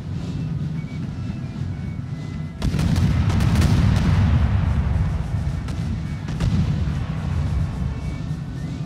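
Eight-pound artillery cannons fire in a battle video game between France and Russia near Venice, a deep booming blast that rolls into a sustained low rumble over constant wind-like background noise, followed by another fainter thud.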